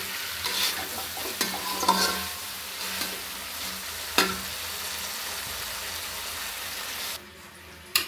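Water is poured into a spice paste frying in oil for a pointed gourd curry, producing a loud, rushing hiss and sizzle with a few utensil knocks, cutting off near the end.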